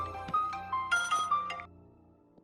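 In a Telugu film scene, a phone ringtone plays a quick, bright melodic pattern of chiming notes, close and clear, then cuts off and leaves near silence.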